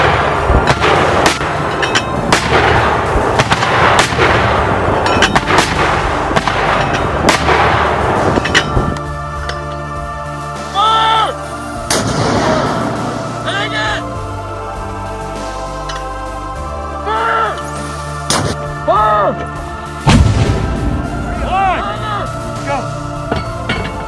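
American soldiers fire mortars rapidly outdoors, loud repeated booming launches, dense at first and then spaced out, with metallic clanks between shots and voices calling nearby.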